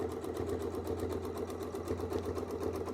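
A sewing machine stitches a quilt with fine 100-weight silk thread, a quiet, rapid and steady mechanical chatter running without pause and with no voices.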